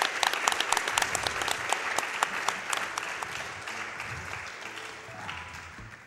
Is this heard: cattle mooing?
no